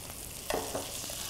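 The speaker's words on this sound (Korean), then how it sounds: "먼저 달궈진 후라이팬에 돼지고기를 볶아준다." Pork stir-frying in a preheated frying pan, a soft continuous sizzle with a couple of brief scraping stirs in the middle.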